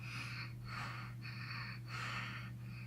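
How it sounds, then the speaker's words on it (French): Stressed, shallow chest breathing shown in a breathing lesson: four quick, airy inhale-exhale cycles in a steady rhythm, close and fairly soft over a constant low hum, with no talk. "La respiration un peu stressée"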